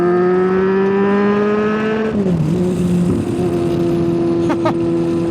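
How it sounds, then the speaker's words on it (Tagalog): A white Vespa scooter's engine revs with a steady hum, then drops sharply as a couple of loud popping backfires crack out close by near the end, with road wind underneath. "Lakas yung backfire."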